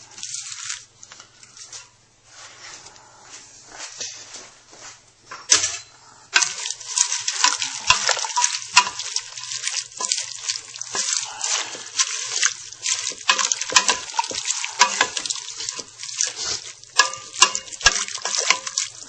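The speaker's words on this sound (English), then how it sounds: "Now we'll let this simmer here." Beef stew with bok choy simmers in a pot on a small burner at low heat, giving a steady soft sizzle and gentle bubbling crackle that grows busier after a quieter start, with no talk.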